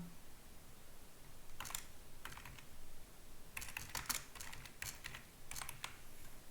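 Text typed on a computer keyboard, several short bursts of quick, light key clicks separated by pauses, faint and close against a quiet background hiss, no voices.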